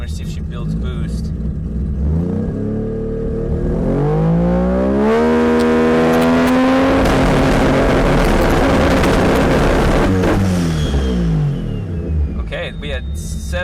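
A turbocharged car engine revs up hard against a launch control two-step on a hot day, climbing in pitch, holding a loud crackling plateau, then dropping away, while someone talks over it.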